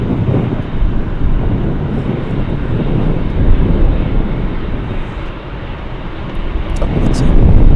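An airliner on a Los Angeles-bound flight passes at Anchorage airport as a loud, broad rumbling roar that builds toward the end, mixed with wind buffeting and occasional talk nearby.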